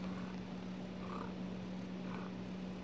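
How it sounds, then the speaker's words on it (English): A cat purrs close to the microphone, a steady low rumbling drone that continues without pause and stands alone with no talking. "Yeah. You purrin."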